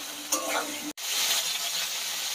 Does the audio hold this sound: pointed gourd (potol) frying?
yes